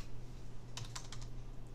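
Coordinates typed on a computer keyboard while drafting in Mastercam, a quick run of about seven close, crisp key taps over a steady low electrical hum, with no talking.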